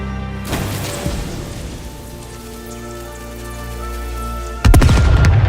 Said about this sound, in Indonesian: Suara ledakan apa itu?